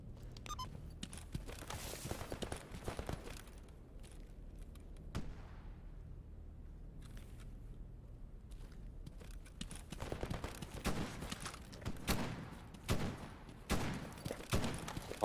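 Gunfire in the S.T.A.L.K.E.R. GAMMA video game, aimed at boars: irregular bursts of sharp shots spread through a long stretch. They are loud, drop into a quieter gap midway, then return denser and heavier, with no talking.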